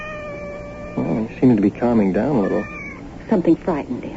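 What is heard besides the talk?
frightened cat meowing in a radio drama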